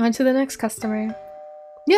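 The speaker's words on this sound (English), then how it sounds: "that's just a doorbell" A two-tone chime rings out in a dating sim game, a clear ding followed by a lower sustained tone that fades away, heard right after someone speaks and just before another voice cuts in.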